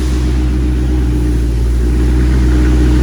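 Dodge Charger engine running loud and close, a deep steady rumble with a low throbbing idle and slight revving swell.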